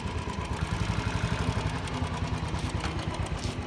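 A Royal Enfield Bullet 350 motorcycle idling, a steady low thumping engine beat with mechanical clatter, close by and without talk.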